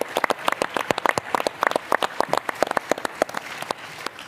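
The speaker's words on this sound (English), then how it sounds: "Perhaps we can give them a round of applause." Audience applause at a livestreamed conference event, a dense burst of sharp claps from many hands, loud and close, steady throughout with no talking over it.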